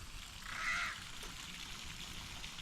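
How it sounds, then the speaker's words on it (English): A single crow caws once in the distance, faint over a steady trickling water background. "Crows doing crow business."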